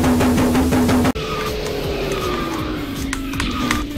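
A kart drifting in the KartRider racing game, fitted with Black Bearing, Dr. Spike wheels and an air-pressure kit. A loud steady engine whine cuts abruptly into a sliding, squealing tone that stays prominent and close.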